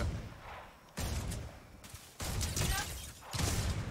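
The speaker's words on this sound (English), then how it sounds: "Oh, I can hear gunshots, guys." Bursts of Fortnite gunfire crack in loud clusters, separated by brief lulls, with some muffled background noise between volleys.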